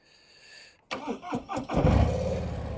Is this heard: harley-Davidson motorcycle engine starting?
yes